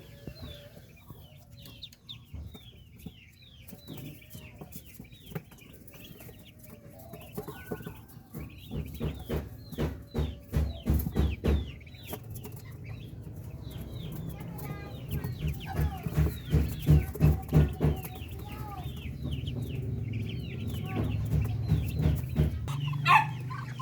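Chicks and ducklings in a backyard, with busy peeping and clucking and bursts of rapid clucking, close and continuous.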